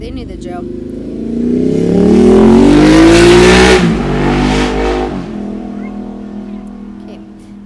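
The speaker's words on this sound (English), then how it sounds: "That was a motorcycle." A motorcycle passes outside, its engine rising to a loud revving swell that peaks mid-way and then fades as it moves off, heard under a voice talking.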